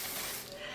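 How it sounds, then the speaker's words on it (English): Red by Kiss melting spray misted onto a wig, one short close hissing burst of aerosol, fading out in under a second. "have been using the Red by Kiss melting spray"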